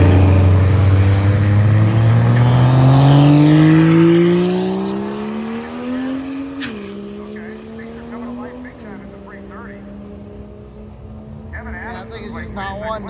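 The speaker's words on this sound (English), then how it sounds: "Okay, we got the diesel Chevette. There we go. Sick. So we're gonna see him make a pass here." A diesel Chevrolet Chevette makes a drag racing pass with a loud engine rising in pitch through two gear shifts and then fading as it moves away, while people talk over it.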